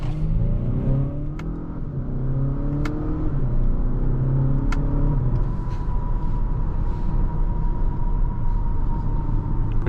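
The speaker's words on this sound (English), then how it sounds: "Pretty quick acceleration, it's nice." A 2025 Acura RDX Tech all-wheel-drive SUV accelerates hard, its engine note climbing steadily through the gears as a loud, continuous rumble and whir fills the cabin for the whole stretch.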